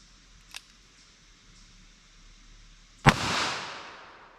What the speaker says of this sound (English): All right, let's hit that with our 22 mag now.